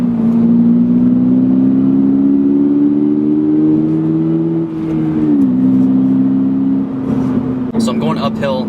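A 2022 Subaru BRZ engine pulls uphill in third gear from inside the cabin, a steady droning hum that slowly rises then shifts pitch, with a person talking over it near the end.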